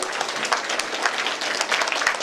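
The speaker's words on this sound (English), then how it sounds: "Can we stop clapping, please?" Dense applause from a gathered audience at an 82nd birthday celebration, a loud sustained patter of many hands clapping at once, steady from start to finish with no voices over it.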